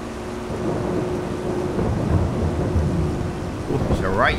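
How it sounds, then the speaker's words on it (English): A thunderstorm in a farming simulator game: steady heavy rain hisses throughout while low thunder rolls and rumbles beneath, with a short squeaky tonal sound near the end. "right thunderstorm, innit?"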